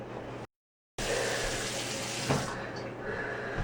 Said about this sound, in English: I'm about to go turn on the water.